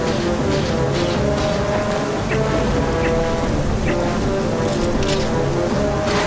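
Steady heavy rain with rumbling thunder in the video game Twilight Princess HD, a dense constant wash of downpour with faint higher drips, no talk.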